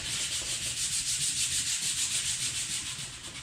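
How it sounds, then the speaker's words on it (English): Sandpaper rubs by hand across a skateboard deck, roughing up a sealed side in quick, even back-and-forth strokes, a steady close scratchy rasp with no pauses. "So I do want to make sure that it gets roughed up."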